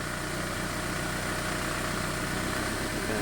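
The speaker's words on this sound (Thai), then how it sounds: "เสียงเครื่องยนต์เร่งแต่คอมไม่ทำงานครับ" A Ford Focus engine with over 215,000 km running steadily with a low rumble and vibration, holding at a raised speed rather than idling, air-conditioning compressor not engaging; no voices.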